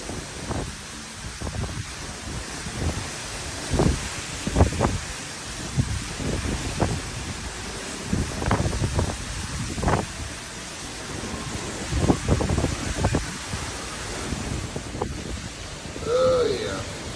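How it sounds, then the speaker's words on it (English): Gusty wind and rain from a tropical storm rush and roar continuously outdoors, swelling in repeated broadband gusts with heavy microphone buffeting. "It's a little stormy today. Another little tropical storm in the neighborhood."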